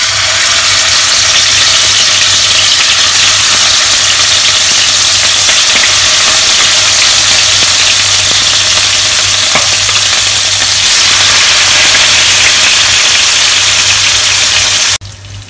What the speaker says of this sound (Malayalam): എണ്ണ നന്നായിട്ട് ചൂടായിട്ടുണ്ട്. നമുക്ക് ഈ മീൻ ഓരോന്നായിട്ട് ഇട്ട് കൊടുക്കാം.